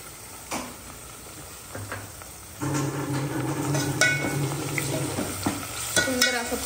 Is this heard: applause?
no